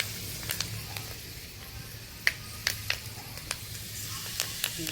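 Fenugreek seeds fry in hot oil for a village-style dried fish curry, giving a soft, continuous sizzle with a few sharp pops and crackles scattered through it, fairly quiet and close.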